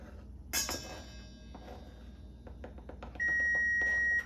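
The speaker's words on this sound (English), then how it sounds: "there goes my timer" A kitchen timer beeps in a home kitchen during baking, giving one steady, sustained electronic tone near the end. Before it come quieter clinks and small knocks of kitchen work.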